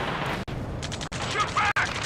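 Gunfire in the video game Ace Combat crackles in rapid bursts with sharp dropouts between volleys, mixed under shouted voice chatter, moderately quiet overall.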